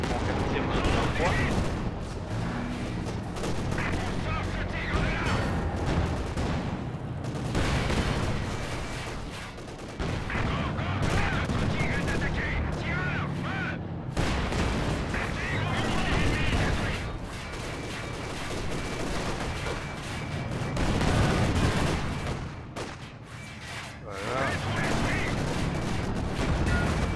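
Company of Heroes 2 World War II tank battle with repeated cannon and gunfire, a dense unbroken stream of booms and shots, while someone speaks French over it.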